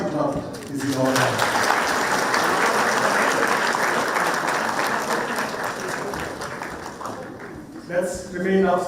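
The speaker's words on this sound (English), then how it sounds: "I think a hearty clap is in order." A crowd applauds loudly and steadily for several seconds at a formal ceremony in Kenya, briefly preceded and followed by a voice speaking over a PA.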